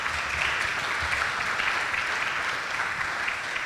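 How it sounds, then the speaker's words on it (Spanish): Steady, dense applause from an audience at a film event, continuous and fairly loud throughout the short stretch with no speech over it. "quería también pedir un aplauso para Héctor y Hernando"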